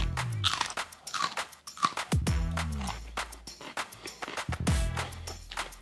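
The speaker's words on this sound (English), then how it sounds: "Really crunchy, crisp, great flavor, very juicy." Biting into a crisp, juicy Aji Challuaruro Amarillo chili pepper and chewing it, with a sharp crunch followed by repeated wet crunching bites, close and loud.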